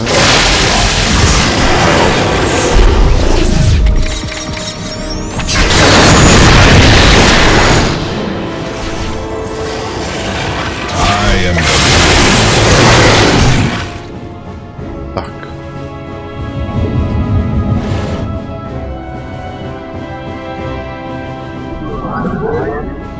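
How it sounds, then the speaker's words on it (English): Orbital strike explosions in StarCraft 2, several heavy booming blasts in loud bursts separated by lulls, over game music and effects with voices speaking. "Může se použít orbital strike"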